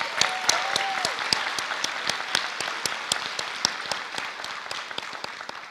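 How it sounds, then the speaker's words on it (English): Applause from the audience at an early college class of 2023 graduation ceremony, a dense patter of clapping with a few sharp, close claps standing out rhythmically above the crowd, and a brief tonal whistle-like sound near the start. "Let's give them a round of applause."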